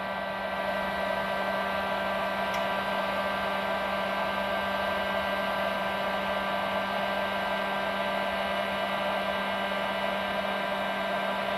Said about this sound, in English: I just take the heat gun and just set it right down there close to it and heat it up